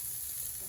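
A jalapeño popper smashburger patty sizzles on a flat griddle, a brief, faint and steady hiss.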